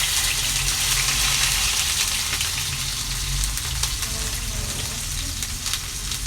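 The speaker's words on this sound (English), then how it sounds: "I will fry this onion" Sliced onion hits hot oil already browning with masala, a loud, dense, continuous frying sizzle close up with a few faint stirring scrapes and no speech.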